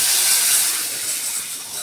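Water poured into a pan of hot oil with hing and red chili powder gives a loud, steady steamy hiss and spray that holds strong throughout, with no talking.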